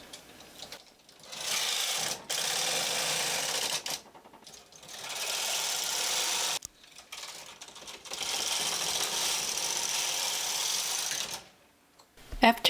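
Brother 260 bulky knitting machine knitting rows, repeated loud mechanical rattling sweeps of the carriage, each lasting about two seconds, separated by brief pauses, close up.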